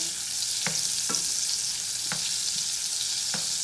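Lard and butter sizzle in a pan for cauliflower cheese, a steady bright frying hiss broken by four soft, evenly spaced scrapes of a utensil as the fats are mixed.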